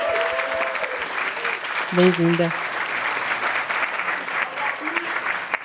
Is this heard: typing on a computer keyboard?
no